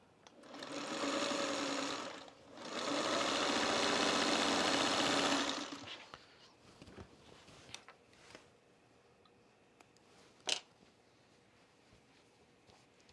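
A sewing machine stitches fabric in two steady, close runs of whirring, the second longer, then stops, leaving a few light handling clicks and taps.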